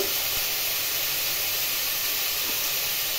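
Potatoes seasoned with red chili powder and salt fry in a pan, giving a steady, dense hiss that runs unbroken and close, with no talk.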